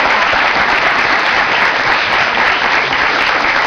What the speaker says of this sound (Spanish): Un aplauso para él, por favor.